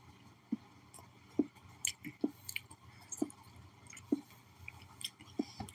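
Food is chewed close to the microphone with soft, wet, squishy bites in a steady rhythm, each chew quiet and distinct.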